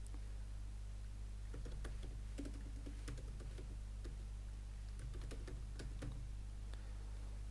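Keystrokes on a computer keyboard, scattered light clicks at an uneven pace over a steady low hum.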